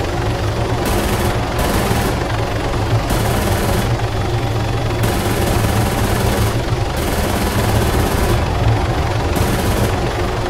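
Helicopter minigun fire in Arma 3, loud continuous rotor drone with repeated long bursts of rapid buzzing gunfire, five or six bursts separated by short gaps, close and dominant with no talk.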